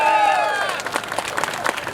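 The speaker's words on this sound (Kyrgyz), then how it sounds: "дүркүрөгөн кол чабуулар болсун" Thunderous applause at a Kyrgyz public rally supporting Sabyr Zhumabekov, a dense burst of crowd clapping and cheering that swells in after the fading end of a spoken call, continuing steadily to the end.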